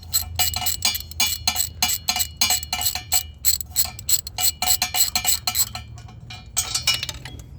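A small metal exhaust stud dropping and clinking during removal of a hot exhaust system, giving a dense run of sharp metallic clinks and taps in quick succession, near and fairly loud, with no talk.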